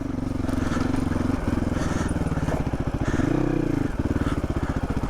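A 2022 GPX Moto FSE450R dirt bike rides downhill on a ridge trail, its single-cylinder engine thumping loudly and steadily up close, with brief dips and rises in pitch as the throttle changes.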